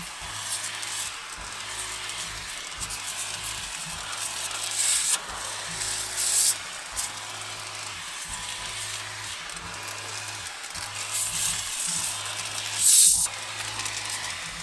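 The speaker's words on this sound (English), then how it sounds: "I'll probably have to kind of hold it and see how well an actual pressure washer nozzle works versus this just hose nozzle" Battery-powered pressure washer spraying water through a nozzle, a steady close hiss over a low pulsing motor hum with brief louder surges, no talking.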